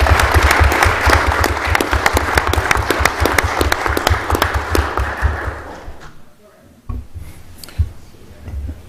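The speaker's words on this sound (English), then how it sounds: "let's give him a round of applause" Audience at a fire department regular monthly meeting breaks into loud, dense clapping that holds steady for several seconds, then quickly thins out and fades to near silence with a few scattered claps.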